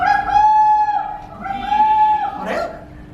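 A rooster crows loudly and close by in two long, drawn-out, ringing calls, with a brief harsh squawk right after.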